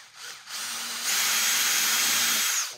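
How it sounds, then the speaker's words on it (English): Power drill boring a hole in plastic for a radius lazy Susan form used on a live edge river project, a close, loud steady whir that ramps up to a higher sustained pitch for about two seconds before stopping. "I drill a hole."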